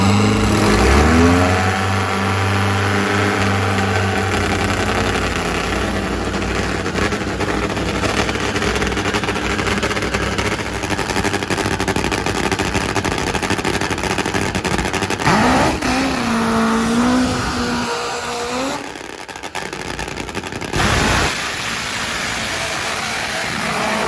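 A drag racing motorcycle engine making over 1,500 horsepower roars and revs loudly, pitch climbing and dropping, then surges again after a brief lull; loud and close.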